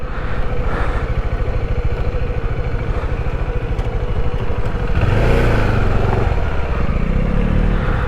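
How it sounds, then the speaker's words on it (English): A motorbike rumbles up close at a hill viewpoint as it is ridden in to park, its engine pulsing steadily, then growing slightly louder and rougher for a moment before settling back to idle. "I will have to better find a place to park the bike"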